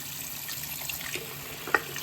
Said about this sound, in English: Let's pour the water